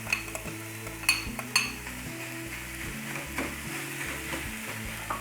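Boiled, mashed potato is worked into a sizzling soya kebab mixture in a pan: continuous frying hiss with sharp scrapes and clinks of a spoon against the pan, loudest near the start, no talking.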